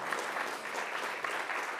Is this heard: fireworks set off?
no